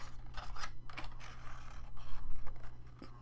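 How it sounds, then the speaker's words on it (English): Metal scissors trimming a paper tag out of a junk journal page, several quick crisp snips and rustles close up, with a steady low hum underneath and no talking. "So we'll just trim one of these out and we can see what it looks like with a little tag in its pocket."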